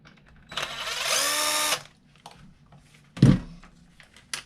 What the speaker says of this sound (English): Now we need to unhook these bolts for the tie rod ends here.